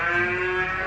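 A cow lets out a short, steady, droning moo that stays level for under a second, loud and alone, played as a sound to guess in a party game.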